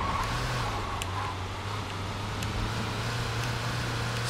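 Steady low engine drone of a car being driven in Saints Row 2, a constant hum with faint road noise and occasional small ticks, fairly quiet and even throughout.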